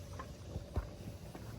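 A donkey's hooves clip-clop softly on the ground at a farm, a few faint irregular steps heard against a quiet outdoor background.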